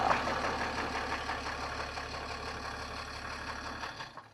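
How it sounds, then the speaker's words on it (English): A BMW 430d diesel with a major engine problem idles with a steady, low mechanical chugging and rattle, fairly close and unaccompanied by talk, before the sound drops away at the end. "So you're about to hear the engine for the first time."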